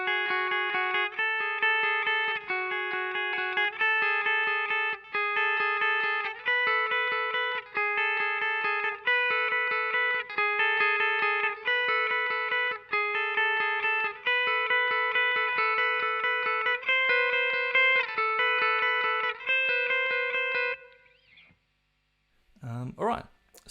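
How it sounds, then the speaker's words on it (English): Second electric guitar part for a section of a song, played alone through effects: a steady stream of bright, sustained, ringing notes and chords with a processed, chorus-like shimmer, ending with a brief handling noise. "guitar 2 in this part on its own sounds like this."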